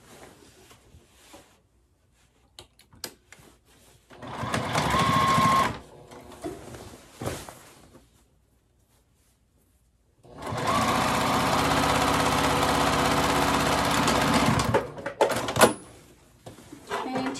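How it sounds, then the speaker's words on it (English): A sewing machine stitches closed the opening of a giant reusable tote bag's lining in two loud, steady runs, a short burst and then a longer sustained one, with quiet handling noises in between. "And then you're going to sew up this opening here."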